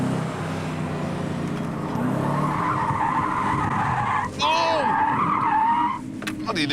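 A Rover car skids hard with its tyres squealing, a loud continuous scream of rubber that rises and bends in pitch over a roaring engine and road noise, with a brief dip partway through.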